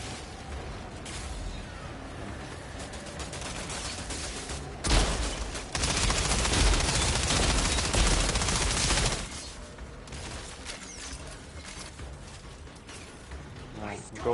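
Rapid gunfire from bullets in the Outriders shooter game, dense bursts that build to a sustained loud fusillade mid-way before easing back to scattered shots.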